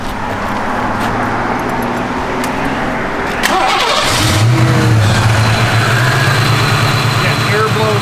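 A 1989 Ford Mustang GT convertible's engine cranks and catches, then settles into a loud, close idle with a rev, while someone talks nearby.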